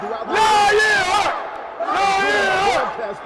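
Fight-night crowd at a boxing event chanting "Lionheart" in two loud, rhythmic bursts of massed voices, each swelling for about a second and a half with a brief dip between.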